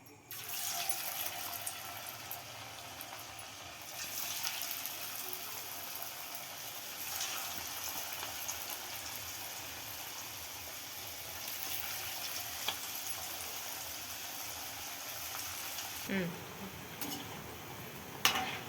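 Pappu chekkalu, lentil crackers, deep fry in hot oil with a steady, close bubbling sizzle that runs throughout, joined by a clink of a utensil near the end.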